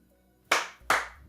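Two sharp hand claps about 0.4 seconds apart, close and loud in a quiet room, testing the music-sync mode of a UFO-shaped Bluetooth RGB nebula light projector.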